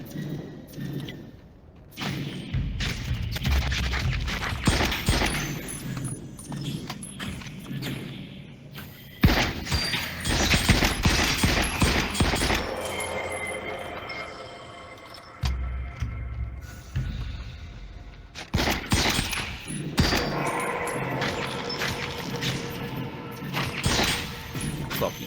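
Magic shots fired by wizards in a shooter-style video game, a series of thuds, blasts and crashing impacts scattered across the stretch, with voice sounds in places.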